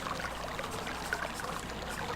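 Water pouring and rushing steadily in the Selenitic Age of the video game realMyst Masterpiece Edition. It is a continuous, moderately loud stream with no voices over it.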